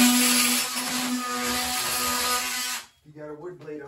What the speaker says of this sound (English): Got the edger. Works good.